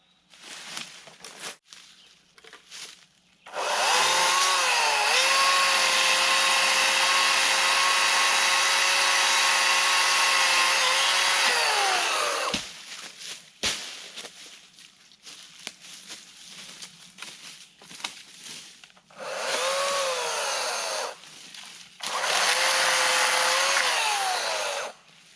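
An Atlas 80V battery chainsaw from Harbor Freight cuts wood in two loud, steady motor bursts, first a long one of about nine seconds and later two shorter runs, with quieter gaps between them and no talk.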